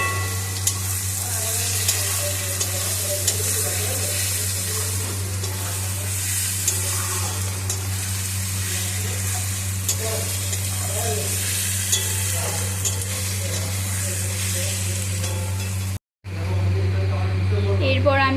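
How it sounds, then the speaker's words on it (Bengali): Loud, steady sizzling of spices and garlic paste frying in a pan, with scraping stirring strokes throughout and a brief cut near the end. "তারপর এটাকে ভালো করে নাড়াচাড়া করে নিচ্ছি"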